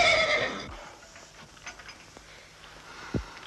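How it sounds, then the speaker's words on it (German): A horse gives a loud, high whinny that fades within the first half second, followed by quieter scattered knocks and a low thud in a quiet space. "Das Pferd hat doch auch gewiehert."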